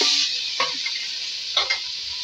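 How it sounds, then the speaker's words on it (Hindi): Fresh onions fry in a pan for a fish recipe, giving a steady hiss of sizzling oil with a few brief scraping stirs, close and fairly quiet, with no talking. "फ्राई कर लिया है। फ्रेश प्याज ऐड करेंगे"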